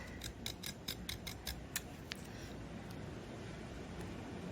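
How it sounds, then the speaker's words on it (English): A sharp knife cuts along pounce wheel lines in material for a model horse dressage saddle, giving faint, close scraping and a quick run of light, rhythmic ticks at the start, with no talk. "I am going to very carefully with a sharp knife cut along the pounce wheel lines"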